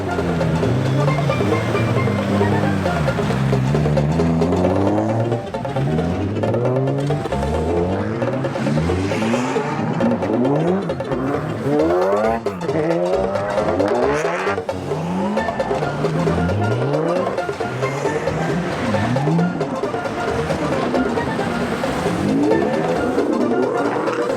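Drift cars rolling out toward the race track, several engines revving and accelerating up close in repeated rising and falling sweeps, overlapping continuously throughout.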